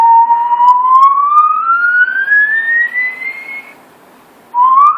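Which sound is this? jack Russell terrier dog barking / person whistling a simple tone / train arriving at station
person whistling a simple tone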